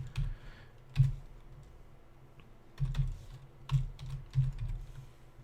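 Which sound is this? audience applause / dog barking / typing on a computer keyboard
typing on a computer keyboard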